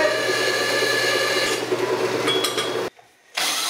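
A metal bracket for a 1976 Mazda RX-5 Cosmo is cut with a power tool, giving a steady loud grinding, rasping drone with a steady hum underneath that stops abruptly, then resumes after a short silence.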